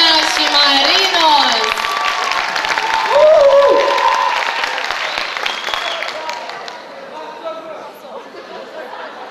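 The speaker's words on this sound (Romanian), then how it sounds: "Aplauze, Diana și Marino!" Audience applause and chatter in a school hall during a freshman ball at a Focșani technical college, loud and dense at first, then thinning out over several seconds while voices carry over it.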